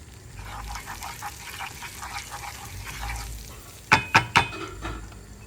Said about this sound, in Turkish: Evet tereyağımız eridikten sonra bir tatlı kaşığı pul biber.